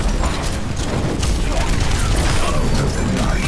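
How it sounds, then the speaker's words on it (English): Bombs explode against a castle in the video game Overwatch: Junkenstein's Revenge, a dense, loud, continuous barrage of blasts and rumbling with a voice speaking over it. "Dr. Junkenstein lobbed his bombs at the castle. The explosions a percussive accompaniment to the sound of his laughter."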